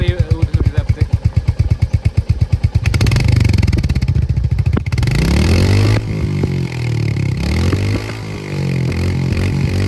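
A Royal Enfield Hunter 350 motorcycle engine fires with a distinct rapid thumping beat, then revs up into a steady, loud idle-like drone with some rising pitch sweeps.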